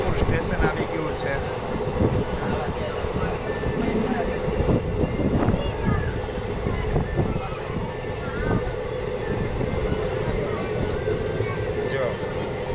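Train on the line to Junagadh rolling steadily, a sustained rumble with clattering wheel knocks and metallic squeals scattered through, fairly close, with faint voices in the background.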